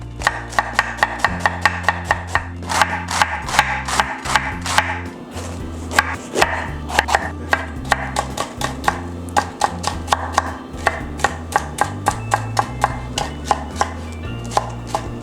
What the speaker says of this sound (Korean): 자, 그러면 양배추를 썰어 볼 건데 오늘 양배추는 결을 꺾어 썰을 거예요